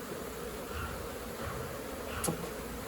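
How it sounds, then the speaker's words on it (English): Male honeybee drones buzz inside comb during a shed hive removal, a steady soft hum with no voices, fairly faint and continuous throughout. "Those are all male bees in there."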